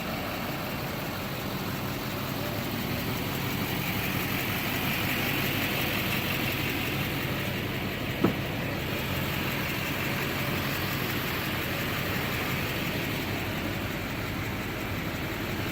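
A 2006 Chevrolet Silverado 4x4 dually with a Duramax 6.6 diesel idles steadily, a continuous low rumble heard up close with one faint click partway through and no talk.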